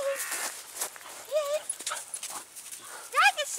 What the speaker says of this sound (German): Ja, so ein Hund ist schon was Tolles.